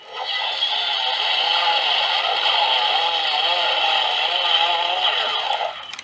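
A Power Rangers Ninja Steel Ninja Master Blade toy sword plays an electronic sound effect when its trigger is pulled, a loud, steady, bright tonal burst with a wavering pitch that lasts about five seconds and then cuts off.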